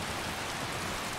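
Rain falls steadily in Skyrim Special Edition, a dense even hiss of drops that fills the short moment without any break or voice.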